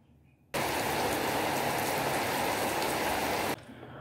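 Rain in Karachi falls as a steady, dense hiss that starts abruptly and cuts off after about three seconds, moderately loud with no voices.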